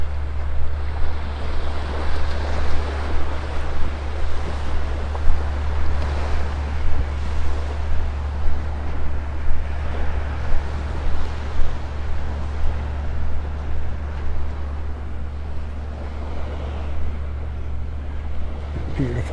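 Ocean surf washes steadily onto a beach in North Naples, Florida, with low wind rumble and rolling waves rising and falling in a continuous wash throughout.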